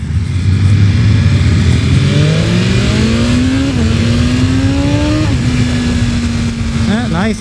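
BMW S1000RR sport bike accelerating hard, its loud engine note climbing steadily with quick-shifter gear changes breaking the pitch at several points, close and continuous under wind rush.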